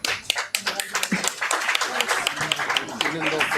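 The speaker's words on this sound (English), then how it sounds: "Please give this next generation a big round of applause." An audience at an international seminar on Mahatma Gandhi claps in a lively round of applause, with a speaker's voice carrying over the clapping.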